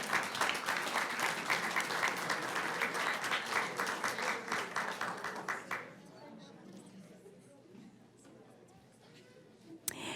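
Audience at a school board meeting applauds for about six seconds, brisk clapping that then cuts off abruptly and leaves quiet room sound with a few faint stray claps.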